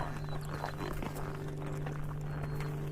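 A horse's hooves thud and clop on the floor of a horse trailer in a few loose, uneven steps. A steady low hum sits underneath.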